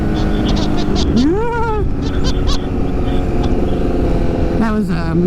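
A motorcycle lifts into a crooked wheelie outdoors. Its engine note swoops upward in two brief revs, riding over a constant rush of wind and road noise at a moderate distance.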